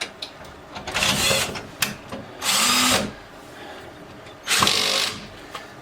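Cordless power driver tightening a bolt into a TV wall mount bracket, three loud bursts of whirring with short gaps between them, close by, with faint handling clatter in the pauses.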